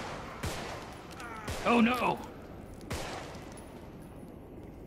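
Gunfire in a first-person video game, a few sharp separate shots spaced across a few seconds, with a brief exclaiming voice in the middle.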